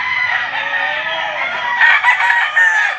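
Chickens brought to a livestock auction market in Lipa, Batangas cluck and crow together in a loud, continuous close chorus, with several overlapping calls rising toward the end.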